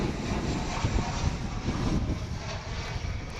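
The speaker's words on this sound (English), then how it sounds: "I hear another aircraft coming, and it's got a One World livery on it." An airliner in One World livery on approach or passing at Dallas/Fort Worth Airport, arriving from Puerto Vallarta, Mexico; a steady, fairly loud broadband engine roar fills the whole stretch with no talk.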